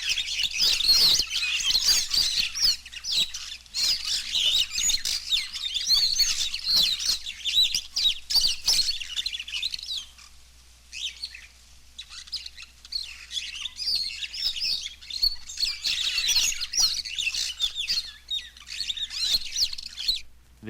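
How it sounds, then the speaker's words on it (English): A flock of African birds gathered in a bush, a busy, continuous chorus of high chirps, twitters and chattering calls overlapping closely, dipping briefly midway before swelling again, with no voices. "a number of birds are liable to collect in a bush and converse"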